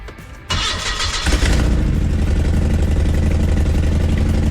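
A van engine, its exhaust needing a new front tail pipe, cranks briefly, catches and roars to life, then settles into a loud, steady idle up close.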